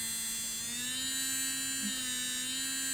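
A Kredioo electric nail drill handpiece spins at high RPM while cutting a nail, giving a steady, close motor whine with a bright buzzing edge and no talking.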